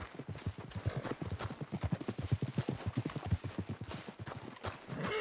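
Horse hooves clip-clop in a video game with a quick, rhythmic trot of close, distinct hoofbeats that runs steadily throughout, with no talk.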